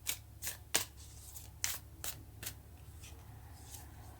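Tarot cards being shuffled by hand, with several sharp riffling snaps and flutters in the first half that thin out to faint handling noise, close and alone.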